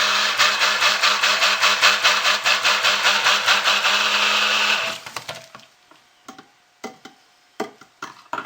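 A stick blender whirs loudly and steadily through soap batter scented with litsea essential oil, pulsing for about five seconds before cutting off, followed by a few scattered clatters and knocks.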